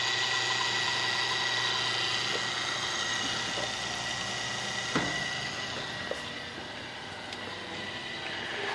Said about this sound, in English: There's a little motor running.